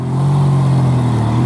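A Ford XR4i goes by with a loud, close, low engine rumble that swells and holds through the short moment, with no voices over it.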